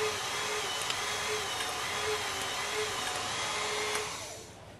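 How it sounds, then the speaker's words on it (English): Hydraulic torque wrench pump running with a steady, even motor drone and whine, holding constant with faint periodic ticks before winding down near the end, with no voices. "basically start the pump, apply advanced pressure and hold it, and the tool will build up pressure"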